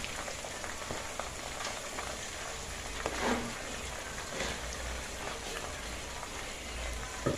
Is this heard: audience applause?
no